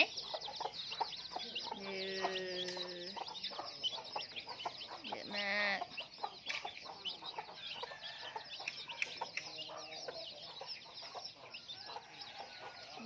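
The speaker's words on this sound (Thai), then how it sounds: "นี่ลูกไก่ที่ไม่มีแม่เนาะ" Baby chicks in a home flock cheep and cluck in bursts of high chirps, with short clucking calls and occasional soft background talk.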